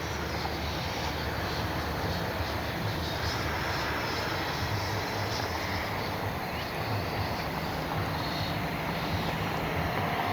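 An Arrows RC F-15 twin 64mm electric ducted-fan model jet flying overhead, a continuous whooshing turbine-like whine that holds steady and loud, with slight swells as it turns.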